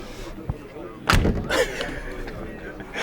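Door of a restored 1965 Neoplan Globetrotter motorhome being shut: one solid, heavy slam following a faint earlier knock, then a brief rattle, with people talking around it.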